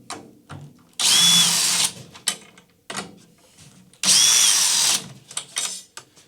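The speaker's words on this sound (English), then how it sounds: "I like to take it off with a drill because it's just faster." A cordless power drill whines in two loud bursts of about a second each while backing tension rods out of a floor tom's drum head, with clicks, rattles and handling knocks between them.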